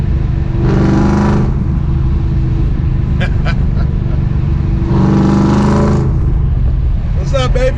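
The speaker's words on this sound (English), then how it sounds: "the exhaust on this thing is crazy, man. I got BBK long tube headers, BBK off-road X-pipe" A Ford 3V car with BBK long tube headers and a BBK off-road X-pipe rumbles loudly up close, its exhaust swelling twice into hard revving bursts, with voices talking over it.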